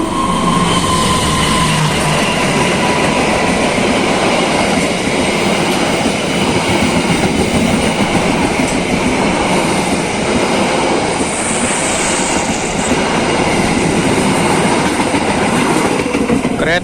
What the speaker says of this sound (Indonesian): Kereta api Pandalungan sudah melintas langsung stasiun Rejoso.